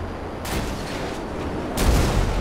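A fighter jet opens fire in GTA 5, two rough bursts of rapid gunfire rumbling over a steady engine-like roar, the second burst louder and heavier, with no speech.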